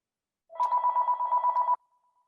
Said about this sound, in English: That's a home phone.